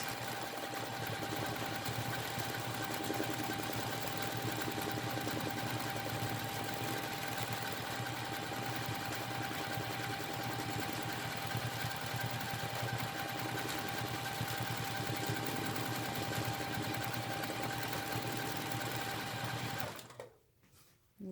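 A sewing machine stitches free motion quilting swirls in one long continuous mechanical whir, then stops abruptly near the end.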